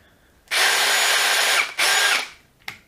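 A rebuilt Worx cordless drill whirs at full speed for about a second, briefly stops, then spins up again before cutting out, followed by a short click, close and loud.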